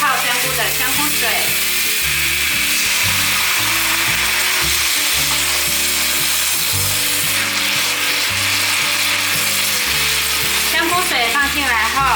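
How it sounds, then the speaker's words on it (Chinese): Steady sizzling as black fungus and shiitake mushrooms are stir-fried with seasonings in a wok, loud and continuous with scraping and clanking of a spatula against the pan throughout. "把调味料炒匀"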